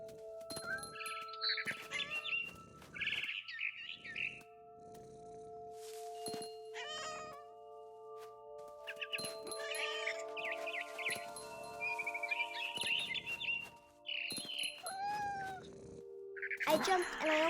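A cat in the video game What Remains of Edith Finch meows repeatedly in short, separate calls, some stretched into yowls, with faint bird chirps mixed in between and quiet gaps throughout.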